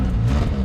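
A 1986 Ford Mustang Fox-body coupe engine idling and revving, a close, continuous low rumble with a slight rise in pitch across the brief moment.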